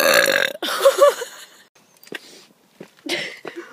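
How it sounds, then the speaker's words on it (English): A person lets out a loud, gurgling burp near the microphone, followed by a second throaty burst, with scattered breathy sounds and pauses between them. "after your beautiful burp"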